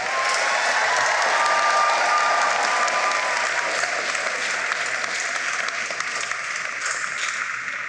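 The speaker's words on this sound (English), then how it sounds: "Graduates, let's give them a round of applause" Sustained applause from a commencement audience honoring graduates' friends and family, a dense steady wash of many hands clapping that stays loud for the full stretch and eases slightly near the end.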